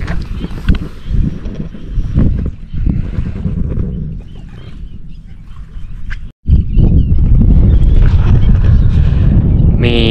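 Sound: strong wind blowing into microphone while fishing

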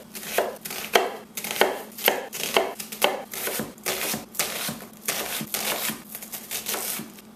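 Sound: chopping an onion with a knife

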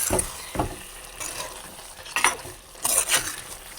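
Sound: stirring tuna curry in a pan

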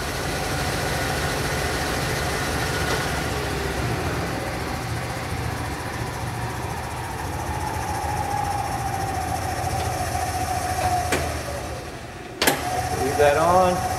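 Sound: Hardinge HLV-H toolroom lathe running, set cover rattling

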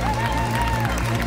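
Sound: applause for runners crossing the finish line

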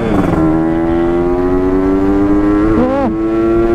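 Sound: fast motorcycle passing by

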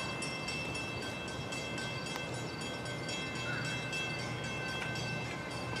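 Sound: train approaching a station platform

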